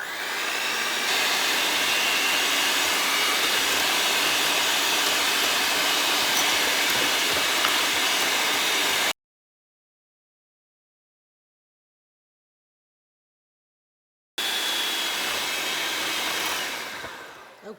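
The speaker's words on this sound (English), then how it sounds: "I'm going to beat these egg yolks with the 1/2 cup of sugar until they are nice and pale and aerated and fluffy" An electric mixer beats egg yolks with sugar for tiramisu, a steady loud whirring drone that runs for several seconds, cuts out completely, then resumes and winds down at the end.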